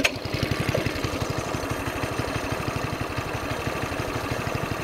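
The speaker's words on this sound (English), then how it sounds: "start it up so you can hear the engine running" A Bintelli S1 racing go-kart engine running at idle, a steady rapid putter of small-engine firing pulses, close and continuous throughout with no talking.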